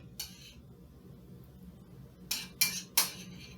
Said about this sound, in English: you will spoon the mixture right into the egg whites